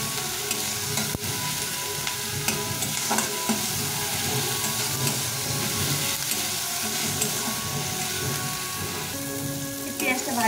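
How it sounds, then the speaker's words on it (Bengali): Chopped onions sizzle steadily in a pan with salt as a spatula stirs and scrapes through them, a continuous loud crackle with occasional clinks. "আর পেঁয়াজটা ভালো করে ভাজা হয়ে যাবে। খুব একটা ভাজবো না, একটু লাল লাল করে ভেজে নেব।"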